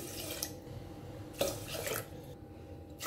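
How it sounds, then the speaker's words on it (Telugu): Four glasses of water are poured into a cooking pot of rice. Faint, distant trickling and dripping are broken by a brief splashing gush in the middle. "ఇప్పుడు ఇందులో మనం ఒక నాలుగు గ్లాసుల నీళ్ళు వేసుకోవాలి"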